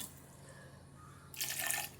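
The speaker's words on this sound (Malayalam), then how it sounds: "ഇതിലേക്ക് ആവശ്യത്തിനുള്ള വെള്ളം ഒഴിച്ച് കൊടുക്കാം" Water poured into a blender jar holding sweet lime pieces for juice, a short splashing pour that starts abruptly about two-thirds through, after a quiet stretch, close and moderately loud with no talking.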